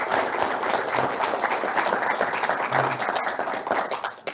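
An audience applauds a speaker at a leadership talk, steady dense clapping filling the room for several seconds before tapering off.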